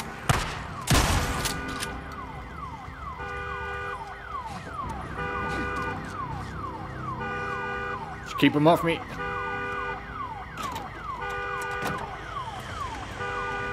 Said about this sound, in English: Oh, damn alarm.